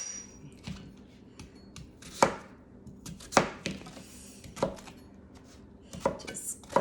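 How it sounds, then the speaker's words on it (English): Turnips being chopped into little pieces with a knife on a cutting board: several sharp, irregular thunks close by, with quieter scraping between them and no voices. "Just cut that up, little pieces."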